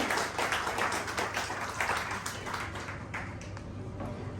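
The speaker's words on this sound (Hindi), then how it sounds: "आप सभी प्लीज अपनी तालियों के साथ उनका स्वागत कीजिए" Audience clapping to welcome a guest of honour at an international awards and convocation ceremony in Indore, a steady wash of many hands applauding at moderate, distant level for the whole stretch.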